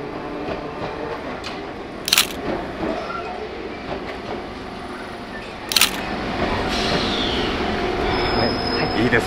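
An Enoden (Enoshima Electric Railway) train approaches head-on along a straight stretch of track beside houses, its rumble and wheel noise building steadily. Two sharp camera shutter bursts click nearby along the way.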